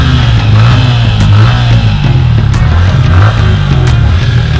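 A Yamaha Sniper 155 motorcycle engine, after two years and five months of use, idles steadily and close up with an even, smooth low rumble throughout.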